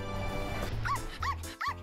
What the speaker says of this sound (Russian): Тут только их собака.